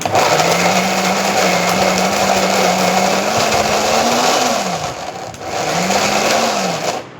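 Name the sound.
mixer grinder grinding minced meat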